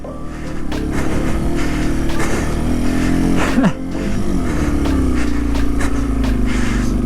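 A Yamaha TW200 motorcycle labours through a foot of deep snow in third gear, its engine droning loud and close with a steady bogging note and a brief dip midway.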